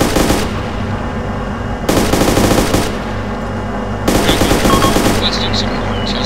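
Loud bursts of machine gun fire from combat in the military shooter ArmA II: Operation Arrowhead, with three sustained volleys starting and stopping across a dense background of battle noise.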